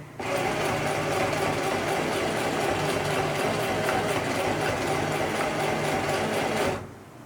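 Sewing machine stitching a seam on short pants, running in one steady continuous whir of rapid needle strokes for several seconds before stopping, close and moderately quiet.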